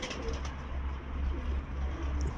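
Pigeons sitting under a pigeon loft coo in low, soft, repeated murmurs amid steady outdoor background noise.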